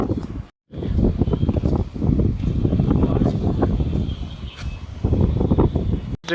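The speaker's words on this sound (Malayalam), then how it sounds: "നല്ല കാറ്റുള്ള സമയമാണ് ഇത്" Gusty wind buffets the microphone in loud, uneven rumbling bursts, with a brief drop to silence near the start.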